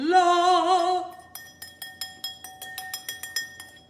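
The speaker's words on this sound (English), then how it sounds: "We'll whisk one more time." A whisk beats an olive oil dressing in a big bowl for a ramen broccoli salad. After a short ringing tone, it makes about a dozen quick, evenly spaced clinks against the bowl, close up and with no talk.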